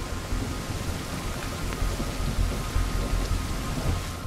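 Steady rain falls in the Dragon Shade video game, a dense, even hiss of raindrops with a low rumbling undertone that holds constant for several seconds without speech.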